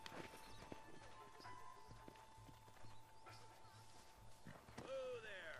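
Horse hooves clip-clopping in the Red Dead Redemption video game, a steady run of hoofbeats under continuous game music and ambience, with a brief whinny-like cry near the end.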